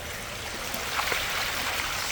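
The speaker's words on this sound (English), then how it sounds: "we're gonna let some water go out after" Water gushes steadily out of the waste line of a 13-inch Anbull pool sand filter as its pump runs, a continuous broadband rushing that holds at an even, fairly loud level for the whole stretch.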